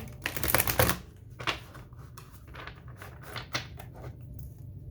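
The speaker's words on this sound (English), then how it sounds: "Just going to give them one more shuffle." Tarot cards shuffled close by, a quick burst of riffling followed by softer, scattered flicks and taps in a quiet room.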